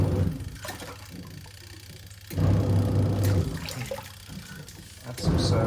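Daewoo DW900C twin tub washing machine on its normal wash action with sheets, soap and washing soda: water churning and sloshing over a low motor hum that surges and eases in cycles, with a person talking at times.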